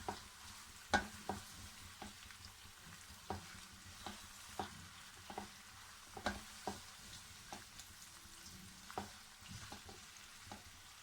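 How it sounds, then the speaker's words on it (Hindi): Chicken fries with onions over a low flame for a pasta dish, making a soft, quiet sizzle. Regularly spaced scrapes and taps of a stirring spoon against the pan sound through it. "अब मैं इसमें चिकन डालकर इसको इसके साथ फ्राई करूँगी लो फ्लेम पर।"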